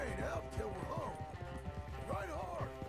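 Horse galloping in Red Dead Redemption II, with steady clip-clop hoofbeats and an occasional whinny running under continuous game music and someone talking throughout.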